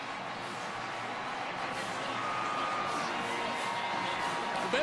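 Kansas State home fans roar at a basketball game against Baylor in Manhattan, a steady wall of crowd noise and cheering that swells slightly and stays loud and unbroken throughout.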